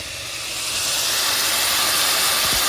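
Chunks of chuck roast beef sear in a hot pan for a stew, a loud, steady sizzling hiss that swells in the first second and then holds at full strength with no talking.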